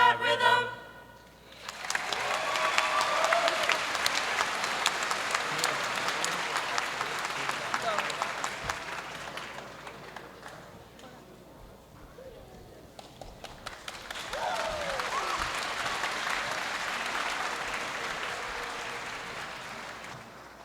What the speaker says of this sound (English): Let's give another round of applause for our amazing select chorus and jazz band